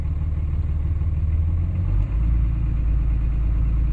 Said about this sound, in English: Raises up a bit if I give it a little bit of throttle.